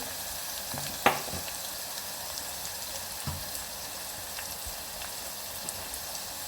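Coarsely crushed garlic paste frying with amaranth greens and onion, a soft continuous sizzle with a few light clinks and taps from a spoon, fairly quiet and steady, with no voices.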